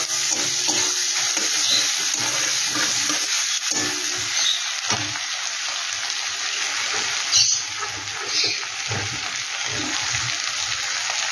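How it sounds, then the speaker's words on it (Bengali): Chopped onion frying in a pan with whole cumin for a prawn malai curry, a steady broadband sizzle with scraping stirs, fairly close and continuous with no talk. "পেঁয়াজটাকে একটু ভালো করে আমি ভেজে নেব।"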